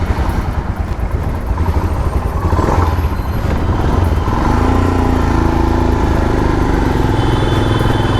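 A white Royal Enfield Himalayan BS4 motorcycle with a fuel-injected engine runs continuously while being ridden, a loud close engine drone mixed with heavy wind rush and no gaps.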